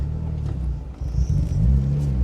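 A turbocharged Mazda MX-5 engine drones low and steady from inside the car while driving, with a rumble that rises slightly toward the end as the car pulls harder, close and fairly loud, with no talk.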